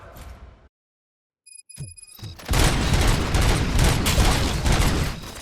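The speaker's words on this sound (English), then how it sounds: "Gunshots? What's going on?" Gunfire in the video game Robocop Rogue City: after a brief silence and a few synthetic tones, a sustained loud burst of rapid shots and booming impacts fills the second half.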